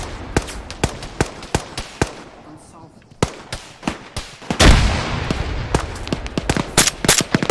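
A thrown grenade bursts in a loud, close explosion during a video game firefight, surrounded by rapid sharp gunshots before and after the blast.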